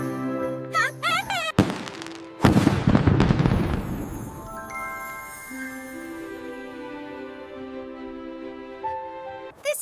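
Cartoon fireworks burst in a loud cluster of bangs and crackles, then fade into a long, bright musical tone with sustained, layered sound under the end.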